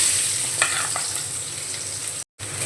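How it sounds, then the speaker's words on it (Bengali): Chopped onion hitting hot mustard oil in a wok, a loud steady close sizzle with a few stirring scrapes, then a brief drop to silence and the frying resumes. "কড়াইতে দিয়ে দিচ্ছি কুচনো পেঁয়াজ"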